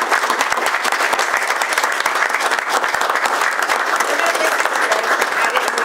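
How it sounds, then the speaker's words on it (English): A room full of people at a township meeting claps in a sustained, dense round of applause that runs loud and even throughout. "I'd like everyone just to give Trish just a round of applause for all of them."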